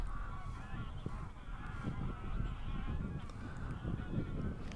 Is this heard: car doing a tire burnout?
no